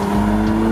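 A Mercedes-AMG SLC 43 with a turbocharged engine accelerating hard, a brief, loud, steady engine drone with a strong low hum, heard close and alone.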